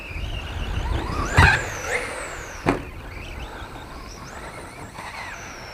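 An Arrma Senton 4x4 RC truck on a 3S battery whines and revs outdoors near new ramps, the motor note sliding up and down with a couple of brief sharp knocks from landings, moderately loud with no talking.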